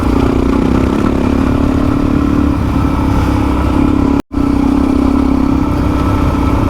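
A Suzuki DRZ400E motorcycle rides a dirt bridle track, its engine droning steadily and loudly up close with wind rush, broken by one brief sharp dropout midway.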